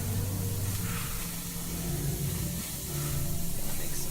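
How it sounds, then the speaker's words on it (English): Steady, loud broadband sizzle with hissing spray, the sound of steak searing in a hot pan, continuous throughout with no talking. "Don't worry about the sizzling."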